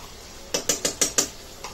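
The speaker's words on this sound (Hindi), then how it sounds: "अब इसको अच्छे से मिक्स करेंगे" A spoon clinks against a metal pot while yogurt is mixed into village-style chicken curry with tomatoes, about five sharp, evenly spaced scrapes and taps, then a softer one, fairly close and with no talk.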